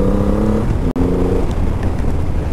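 A Triumph Rocket 3 GT motorcycle engine pulling in third gear at low revs, a loud, close, rising drone with a brief cut partway through.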